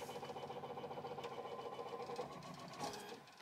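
Ricoma TC1501 embroidery machine tracing a hat design, a quiet fast mechanical chatter of the needle running steadily, with a brief shift in pitch near the end.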